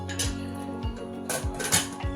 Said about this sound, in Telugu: కుక్కర్ లిడ్ పెట్టేసుకోవాలండి.